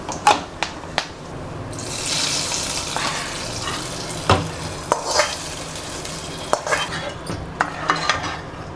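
Urad dal and curry leaves sizzle and crackle in hot oil for a tempering poured over mochai kootu, with steady frying hiss, stirring and a few sharp utensil clinks up close.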